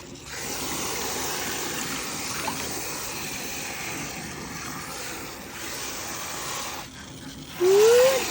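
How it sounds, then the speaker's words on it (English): Water runs steadily into a bucket or tub in a papermaking workspace, a continuous rushing hiss lasting several seconds that drops off briefly near the end before a short rising tone. "fill up your bucket or your tub."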